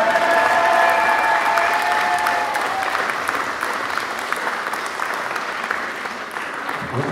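A festival closing-ceremony crowd applauds warmly, steady dense clapping that fades slightly toward the end, with a voice or cheer audible briefly at the start.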